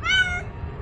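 A single cat meows aboard a ship, one clear rising-then-falling call up close in the first half-second, followed by a low rumble of background noise.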